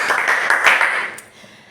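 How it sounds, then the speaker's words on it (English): A class gives itself a brief round of clapping, a dense burst of many hands that tapers off after about a second. "Give yourself a round of applause."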